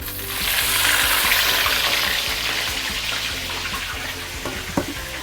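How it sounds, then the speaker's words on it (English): A fish head fries in smoking-hot oil in a wok, giving a loud, dense crackling sizzle that swells early and then settles, with faint clicks underneath and a brief clink near the end. "Must be smoking before you put in your fish head."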